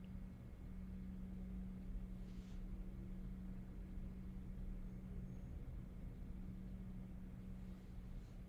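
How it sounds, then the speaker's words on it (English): A bus pulling up outside a house, heard as a faint, steady low engine rumble and hum from a distance, continuous throughout with no voices. "I can hear the bus pulling up outside."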